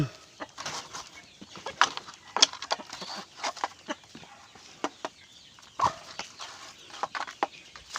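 Backyard chickens cluck and chatter while being fed organic feed, scattered short calls and soft pecking sounds at close range, fairly quiet, with no clear talk.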